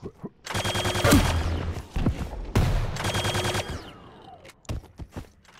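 Rapid bursts of machine gun fire in the arena shooter Quake Champions, two loud sustained volleys with short gaps, followed by scattered single shots and footsteps, no talk.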